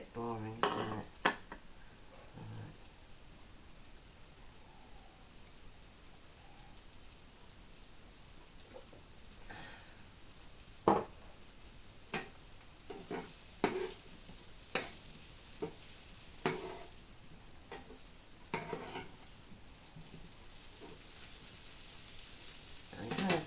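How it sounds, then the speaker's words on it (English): Fusion tteokbokki sizzles quietly in a pan while a utensil stirs it. Sparse clinks and scrapes against the pan come at uneven intervals over a soft, steady frying hiss. "Keep stirring something."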